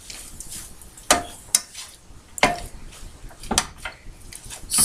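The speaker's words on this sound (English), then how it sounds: "So we're just letting the egg cook." Eggs for a breakfast scramble frying in a pan, with a constant sizzle broken by sharp scrapes and clicks of a utensil against the pan.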